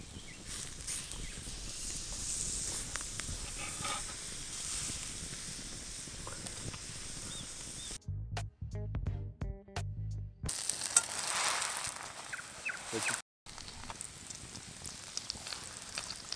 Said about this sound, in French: on va se faire revenir les pains pour bien les dorer, qu'ils soient bien toastis, avec une petite noisette de beurre